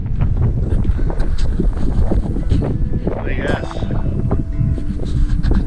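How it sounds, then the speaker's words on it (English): Strong wind buffets the microphone in a steady, loud roar at Monument Valley, Arizona, as someone speaks briefly over it. "Jeez, it just got really windy."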